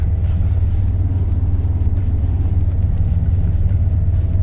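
A 2003 Lancia Thesis cruising uphill with cruise control holding its speed: a steady, loud low engine and road rumble drones on without pause or change in pitch.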